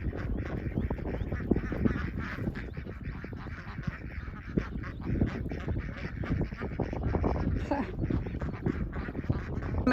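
A flock of ducks in a garden quacks and honks continuously at close range, dense overlapping calls filling the whole stretch with no clear pauses.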